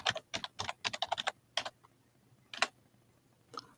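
Quick bursts of typing on a computer keyboard, close and crisp, with clustered keystrokes early on, then a pause and a few isolated taps near the end, no voices.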